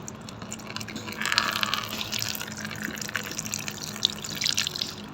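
Clear water from a coconut pouring out in a steady trickling stream with small splashes, close and fairly quiet, with no voices.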